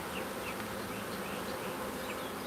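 A live honeybee swarm from a large hive produces a steady, dense buzzing that fills the scene, with individual bees droning close past the microphone. No one speaks.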